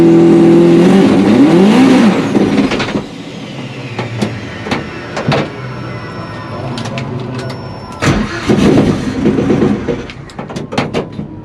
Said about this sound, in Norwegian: Ja, motoren gikk faktisk